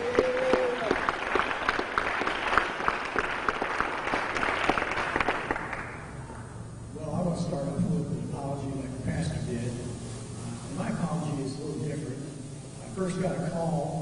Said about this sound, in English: Let's make him welcome with a hand clap.